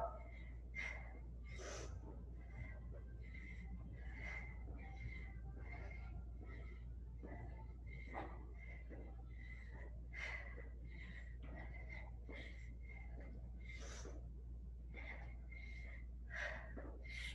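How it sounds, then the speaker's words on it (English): Heavy, rhythmic breathing during a bodyweight conditioning workout: quick, forceful exhalations and gasps repeat about every half second, close and steady over a low constant hum. "Is anyone else breathing as hard as me?"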